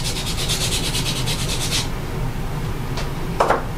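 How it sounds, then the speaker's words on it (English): Knife handle scales being lightly rubbed with abrasive, lengthways then crossways, to key the surface before fitting liners: a rhythmic run of short scratchy strokes for about two seconds, then quieter, with a brief rub near the end. "I go just lightly rub lengthways and crossways, just to give it that extra little bit of a key"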